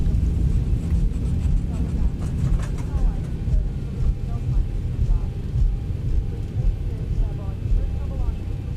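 A Zibo mod Boeing 737 airliner in a flight simulator rolls out after landing on a flight from Corfu to Bratislava, making a steady loud engine and rolling roar with a low rumble that runs throughout.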